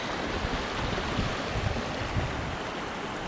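A river stream rushes at a backcountry water crossing: a steady, loud broadband roar of flowing water runs unbroken throughout, with no voices.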